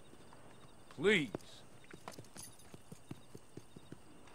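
Horse in the video game Red Dead Online, with a loud whinny near the start followed by a steady walking rhythm of clip-clopping hooves; a voice speaks briefly.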